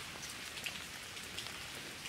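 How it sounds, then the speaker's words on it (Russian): Steady rain falls on garden paving slabs and a concrete apron around a country house, a dense even patter close by, with no voices. "Дождик идет."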